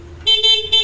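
A car horn gives a few short, loud honks in quick succession, close by, with steady tones over a quiet background.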